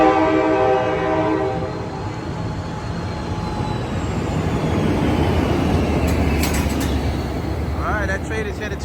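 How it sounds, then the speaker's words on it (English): Amtrak Capitol Corridor train departing Oakland Jack London Square, opening with a loud horn blast followed by a heavy, rising rumble of the locomotive and cars passing close by, with a brief chime near the end. "So this train is highballing out of here."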